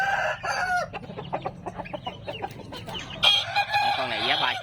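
A young American-breed rooster weighing about 3.2 kg crows loudly and close by, with clucking and calls around the crow in a short, lively burst.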